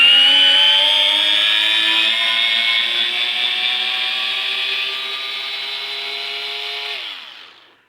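A DuroFort 8 volt cordless screwdriver drives a screw into wood, its motor whining loud and steady for about seven seconds before spinning down to a stop, with no talking.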